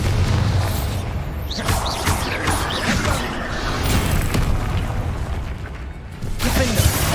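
Bombarda blasting spell exploding in Hogwarts Legacy combat against spiders, booming bursts layered over constant loud battle noise and game effects, with a brief surge near the end.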